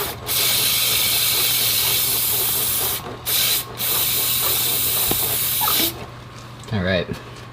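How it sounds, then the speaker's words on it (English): A garden hose blasts water onto the chain of a Honda Rebel 500 motorcycle, a loud steady hissing spray broken by brief pauses, ending with a short burst of talking. "Let it sit for a second, and then I'll hit it with the hose."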